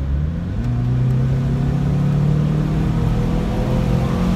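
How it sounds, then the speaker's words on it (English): A 17-year-old Saab bought for 1000 dollars accelerates with its turbo, a loud, steady engine drone rising in pitch as the car pulls, heard from inside the cabin. "Right so feeling the turbo, hearing the turbo."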